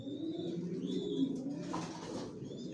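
Racer pigeons coo in a loft, a low, soft, continuous burbling with overlapping calls close by, a few faint chirps above it and no speech.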